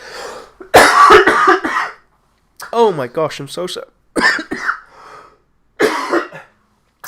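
Several harsh coughs burst out close up, followed by a person speaking briefly in between short pauses.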